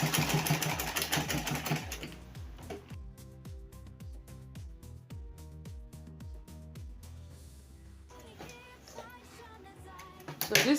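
An electric sewing machine stitches the handle of an Ankara fabric tote bag, a steady rhythmic needle patter running in bursts with short pauses between, close and moderately loud, with no talking.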